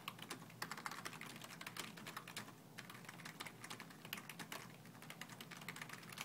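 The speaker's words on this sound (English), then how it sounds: "Just hit the tab button and start typing." Fast, continuous clicking of computer keys being typed on, close and fairly quiet, with brief pauses between bursts.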